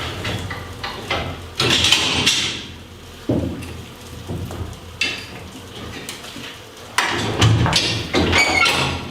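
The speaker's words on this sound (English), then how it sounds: "We grab up some more frames here, slide them forward, go to our mark, slide those forward." Wooden honey frames slid forward along a metal extracting rack during honey extraction, a series of loud, close scraping slides and heavy clunks and thuds separated by short pauses.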